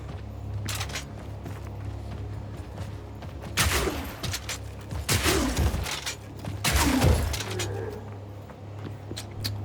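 Rapid high-velocity gunfire from a Mercenary's crossbow-style firearm in the action RPG Path of Exile 2, sharp broadband cracks bursting in clusters around mid-clip over a steady low game hum, fairly loud and close.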